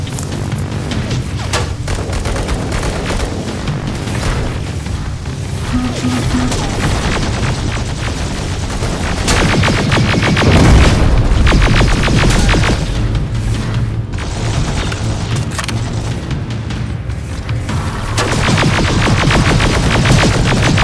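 Dense, loud game combat in Terminator Resistance, with heavy booming grenade blasts and sustained rapid gunfire layered into a continuous roar throughout.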